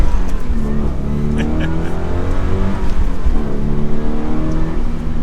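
A Toyota GR86 accelerates in a loud, steady engine drone with rising harmonic tones from inside the cabin and faint background noise.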